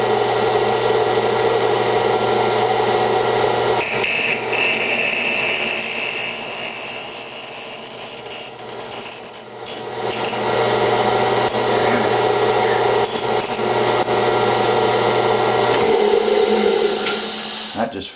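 A drill bores into titanium at low RPM with a 5/16 bit, giving a sustained, loud mechanical whine with grinding overtones that holds steady before winding down near the end.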